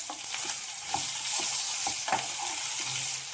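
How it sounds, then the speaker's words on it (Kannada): Chopped brinjal with curry leaves sizzles loudly in a hot pan for a gravy. A steady frying hiss is broken by repeated scraping stirs of a spoon against the pan, close up, and nobody speaks. "ಇವಾಗ ಬದನೆಕಾಯಿ ಏನು ಹೆಚ್ಚಿಟ್ಕೊಂಡಿದ್ದೀನಲ್ಲ ಅದನ್ನು ಹಾಕ್ಬಿಡ್ತಾ ಇದ್ದೀನಿ."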